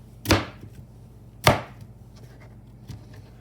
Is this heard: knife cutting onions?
yes